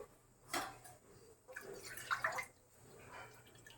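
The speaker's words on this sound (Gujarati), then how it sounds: "આમાં મેં અત્યારે 1 ગ્લાસ જેટલું પાણી નાખ્યું છે." About a glass of water being poured into a pot of dal palak made with boiled chana and moong dal, a close splashing pour in a few uneven bursts over a low background hum.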